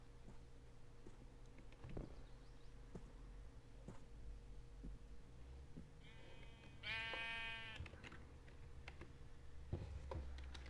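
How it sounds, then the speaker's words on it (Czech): A sheep in a Minecraft modpack game gives one clear synthetic bleat with stacked wavering tones partway through, over steady game ambience and faint clicks. "Jo, ovce."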